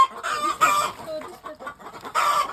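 Hens clucking close by in the morning after being released to feed, bursts of loud agitated clucking and squawks with quieter clucks between, no talking.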